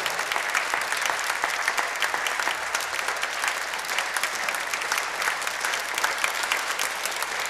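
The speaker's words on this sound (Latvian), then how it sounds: "Vēlreiz ovācijas!" Sustained audience applause and ovation at a Latvian concert and award event marking 30 years of HIV/AIDS history, a dense steady clatter of many hands clapping throughout with no pause.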